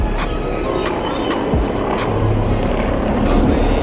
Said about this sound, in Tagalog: Oh, there is a helicopter.